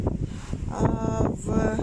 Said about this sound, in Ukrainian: я думаю, вам чутно і видно, який вітер